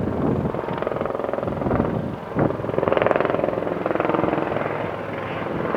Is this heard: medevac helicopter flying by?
yes